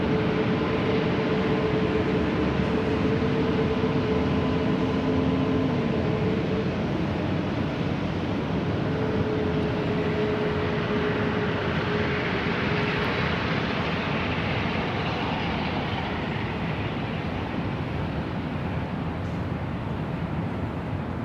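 A jet airliner taking off from runway 24 Left at LAX, a loud, steady, broadband roar of engines with a continuous rushing hiss that persists throughout.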